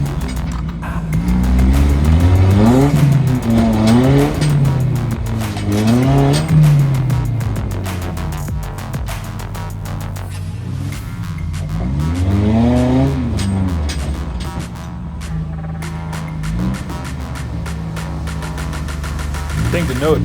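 An off-road race vehicle at King of the Hammers revs hard in repeated rising and falling bursts as it tries to climb a rock ledge about 8 feet tall, loud and close, with voices talking over it.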